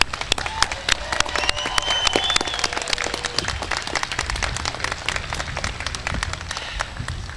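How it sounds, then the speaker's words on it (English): The crowd at the Klamath Community College 2023 commencement applauds the graduating class, sustained dense clapping with a few whistles rising over it early on, fairly loud and continuous. "joining me in applauding the Klamath Community College class of 2023"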